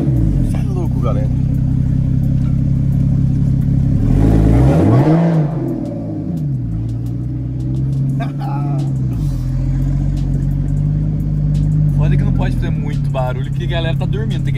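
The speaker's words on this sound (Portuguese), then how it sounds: "Mas isso aqui é o barulho normal, tá ligado? Do carro" Car engine running normally at night on a neighborhood street, a loud steady mid-pitched drone that swells briefly as it revs, with people talking over it.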